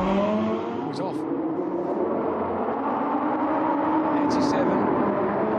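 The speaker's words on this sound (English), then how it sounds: "Finally, it was the turn of the Lambo's V10." A Lamborghini V10 engine roars and revs hard, rising and falling in pitch, with faint voices talking underneath.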